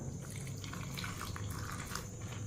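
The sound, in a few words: pouring water into ragi recipe ingredients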